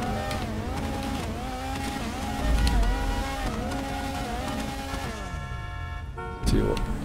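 A race car in GTA V Online revs and accelerates with a sustained, rising and falling engine drone, loud and constant, while someone talks excitedly over it.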